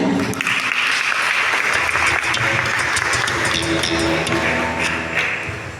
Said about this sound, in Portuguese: Convido você a trazer uma salva de palmas